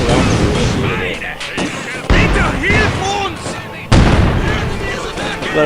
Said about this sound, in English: I ended up throwing a grenade, which totally rips apart their little huddle that they had